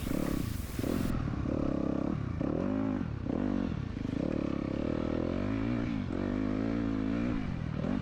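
A dirt bike ridden hard in a hare scramble race, its engine loud and close with constant revving that rises and dips as the rider shifts and works through the trail.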